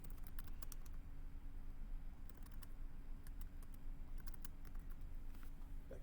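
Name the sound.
typing on a computer keyboard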